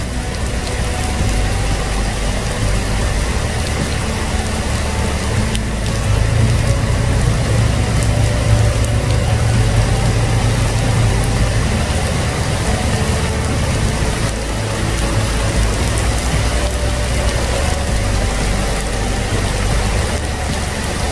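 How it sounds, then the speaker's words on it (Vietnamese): Steady, dense rain drums on a parked car's roof and body during a heavy storm at Thác Giang Điền, Vietnam, for the whole stretch, a constant wash of noise with a low rumble underneath. "Đang gió, đang mưa, rất mưa rất lớn."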